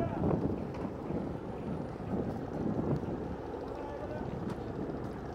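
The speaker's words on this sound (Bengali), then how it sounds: "ওই যে ট্রলার আসছে, ট্রলার উঠবো নি।" A motorized trawler boat approaches on a river, its engine rumble blended with steady wind buffeting and water noise, with voices talking in the background throughout.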